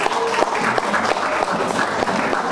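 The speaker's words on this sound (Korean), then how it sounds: "감사의 박수 좀 한번 부탁드리겠습니다" Steady applause from a crowd at an awards ceremony, dense clapping filling the whole stretch at a loud, even level.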